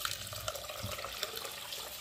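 Water poured into a pot of rice (3 cups, for khichdi with dal) to soak it, a steady close splashing and trickling flow throughout, with no talk.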